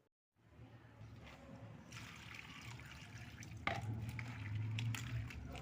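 Cut elephant apple pieces are washed and squeezed by hand in water, giving a faint, continuous sloshing and trickling with a brief knock partway through.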